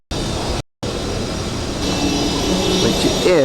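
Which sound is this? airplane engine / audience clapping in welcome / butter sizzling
airplane engine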